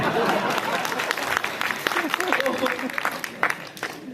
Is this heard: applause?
yes